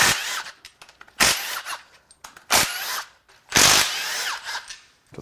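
A power tool spins off 14mm timing cover bolts on a 2010 Toyota Corolla engine, giving several loud, short whirring bursts with brief pauses between them, close by and without talk.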